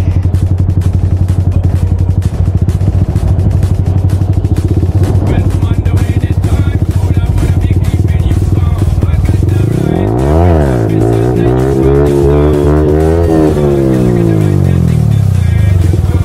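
Motorcycle engine revving hard during a wheelie stunt on a road, loud and continuous, with pitch sweeping sharply up and down as the throttle is worked, mixed with clatter and background voices.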